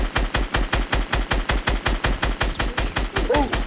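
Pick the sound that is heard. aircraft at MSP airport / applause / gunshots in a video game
gunshots in a video game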